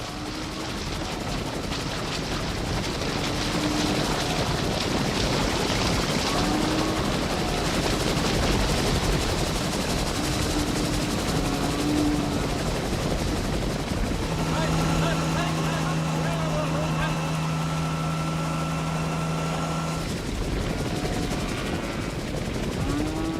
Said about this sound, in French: à coups d'hélicoptère, on le repousse vers les hauteurs